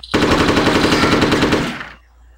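Rapid machine-gun fire in the Hitman 2: Silent Assassin video game, a loud continuous burst of closely spaced shots lasting about two seconds before cutting off into quiet.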